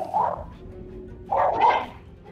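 A dog barks twice in the video game Baldur's Gate 3, the first bark short and the second longer and louder, fairly close with little else around.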